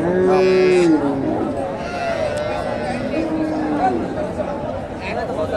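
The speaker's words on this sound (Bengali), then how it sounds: "4 দাঁতের গাভি, শাহিওয়াল গাভি" Sahiwal and Friesian cows moo loudly and close at a busy cattle market, one long low call standing out over the constant chatter of a crowd.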